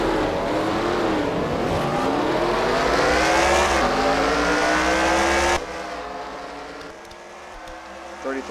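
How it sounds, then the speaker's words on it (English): Simulated NASCAR stock cars race at Bristol in the NASCAR Racing 2003 video game: several loud engines rev and whine in rising, overlapping sweeps, then the roar drops to a lower, thinner level for the last few seconds. "Now we'll take a look on board Jimmy Johnson, who narrowly avoided about 2 wrecks here."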